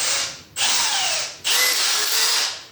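A power drill drives screws into a wooden drawer front, sounding two loud, close whirring runs with a brief pause between and pitch shifting as the screw seats, and no one speaking.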